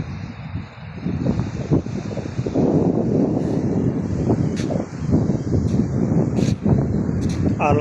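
Steady sea breeze blowing at an open seashore, a continuous broadband rush and buffeting of wind across the microphone, with surf noise underneath and faint voices of a crowd in the background.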